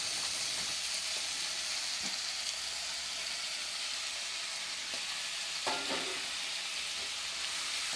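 Finely chopped tomatoes frying in a pan with onions for tomato paneer palya, a steady close sizzle broken by a few soft stirring clicks.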